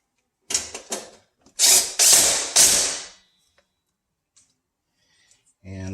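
An air fryer being taken apart with a powered screwdriver driving out Torx screws, a few short whirring bursts followed by quiet gaps and small clicks, close up, with a brief voice at the end.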